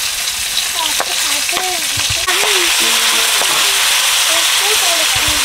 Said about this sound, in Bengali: মাছ ফাটছে বলে থালা নিয়ে এসছি